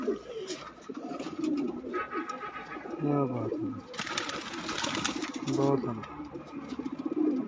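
Pigeons coo repeatedly from close by on a rooftop loft, soft throaty coos recurring through the stretch while someone talks over them.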